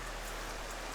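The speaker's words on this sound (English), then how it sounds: "It is raining a little bit." Light rain falls steadily at a mountain campsite near Aspen, Colorado, a soft continuous hiss of drops with no voices.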